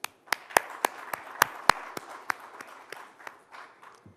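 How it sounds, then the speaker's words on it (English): Scattered, sharp hand claps ring out in a hall at the India Today Conclave 2021, a sparse handful of distinct claps that thin out and fade, with no voices. "Let me applaud all of you for coming."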